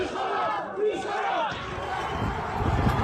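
Angry anti-government protest crowd in Iran chanting and shouting together, a dense, moderately loud mass of voices with rhythmic cries rising and falling.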